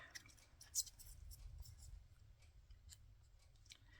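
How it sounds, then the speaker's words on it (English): Ergonomic scissors cut painted paper in close, quiet, irregular snips, with one sharper click standing out early on. "I've got a pair of ergonomic scissors because of my arms"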